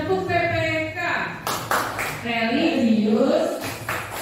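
A group of teachers in a training session performs the Tepuk PPK rhythmic clapping chant, with sharp patterned claps at intervals under loud voices chanting in unison throughout.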